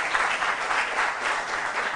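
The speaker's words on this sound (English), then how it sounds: "A round of applause for both teams, please" Steady applause from a quiz-show audience for both competing school teams, a dense wash of clapping holding at an even level throughout with no voices.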